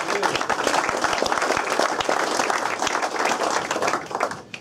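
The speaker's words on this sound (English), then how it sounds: "we'll give Clive a big round of applause as well" Dense audience applause fills a football club's end-of-season presentation evening, a steady wash of many hands clapping at close range for the whole stretch.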